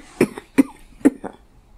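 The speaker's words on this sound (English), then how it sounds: "I don't want to go on anymore with the cough." A person coughs in three close, sharp bursts, followed by a softer fourth, heard up close and alone without any talking.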